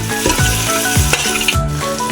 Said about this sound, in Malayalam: നന്നായിട്ട് വഴറ്റിയെടുക്കുക.